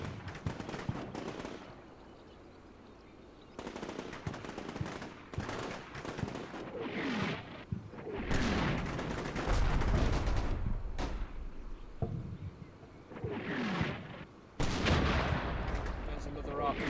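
Artillery fire for effect and gunfire in a war video game set on a city street, with repeated loud broadband blasts and bursts across the clip, a brief quiet gap, and a voice talking between shots.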